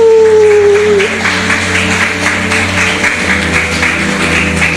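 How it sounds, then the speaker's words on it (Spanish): A congregation in a church breaks into loud, sustained applause after a brief tone, the clapping filling the room steadily over a low droning musical hum. "Dale un fuerte aplauso al Señor."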